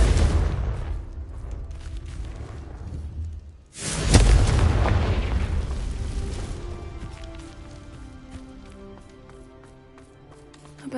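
A Confringo fire spell from Hogwarts Legacy bursts in a loud, broadband blast about four seconds in. Its boom rumbles and fades slowly over the following seconds, set against steady background game ambience.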